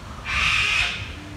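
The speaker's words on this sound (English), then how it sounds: "do you hear that bird?" A bird calls outdoors in St Kilda, Melbourne, one sustained, fairly loud call of about half a second over steady low background noise.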